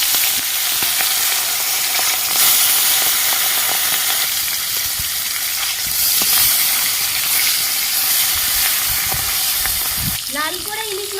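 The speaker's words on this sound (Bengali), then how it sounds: "ইলিশ মাছের মাথাগুলো আমি ভেজে নেব।" Hilsa fish heads sizzle and crackle in hot oil in a wok, a loud, continuous frying hiss with a sharper spitting burst near the end.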